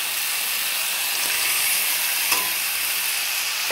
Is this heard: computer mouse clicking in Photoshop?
no